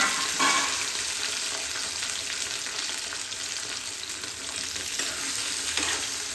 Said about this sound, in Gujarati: હવે ઘી ગરમ થઈ ગયું છે તો આપણે આ રતાળુ એટલે કે ના પીસ ઉમેરી દઈશું